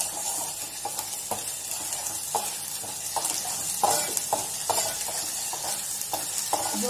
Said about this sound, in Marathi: आणि याला छान परतत राहायचं, ह्या मसाल्याला परतत राहायचं